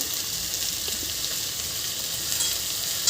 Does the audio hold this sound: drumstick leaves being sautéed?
yes